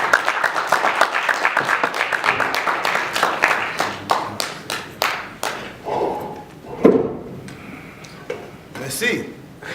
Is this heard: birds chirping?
no